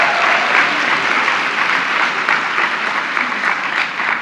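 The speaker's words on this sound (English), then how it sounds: "Give her a big round of applause." Sustained applause from a luncheon audience at a women's equality event, a dense steady wash of clapping that holds evenly loud from start to finish with no voices on top.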